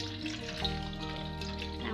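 Water pours and splashes while palmyra fruit is washed for Jaffna panangkai pittu, with sustained tonal music playing over it.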